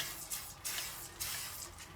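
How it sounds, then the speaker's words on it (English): WD-40 sprayed onto lopper blades: several short, close hissing bursts from an aerosol can, with brief gaps between them and no talk. "if you spray WD-40, that's going to put a really nice coating on it"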